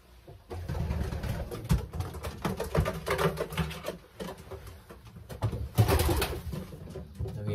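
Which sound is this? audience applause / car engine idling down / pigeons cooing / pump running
pigeons cooing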